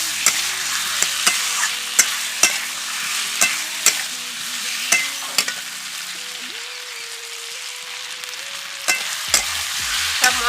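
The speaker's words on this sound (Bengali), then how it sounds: "এবার দিয়ে দিচ্ছি ভেজে রাখা আলু। সব মশলার সাথে আলু ভালো করে মিশিয়ে নেব।" A spoon scrapes and clacks against a pan as fried potatoes are mixed with spices for aloo do pyaza, sharp knocks repeating every second or so over a continuous sizzle, close and fairly loud.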